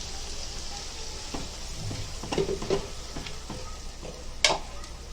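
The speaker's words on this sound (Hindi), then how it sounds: "अभी ये मसाला पूरा डाल देंगे और अच्छे से भुनेंगे नमक डाल के" Dry masala with salt is stirred and roasted in a pan for a Konkani whole urad dal dish, giving a soft, steady sizzle with scattered spoon scrapes and one sharper clink near the end.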